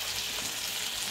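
Tomato dropped into a pan of frying curry, giving a steady, close broadband sizzle that holds even and unbroken throughout, with no talk over it.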